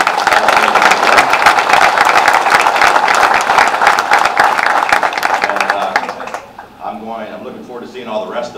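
Crowd at a National Manufacturing Day event gives the participating students a loud round of applause that fades out after about six seconds, followed by a speaker talking.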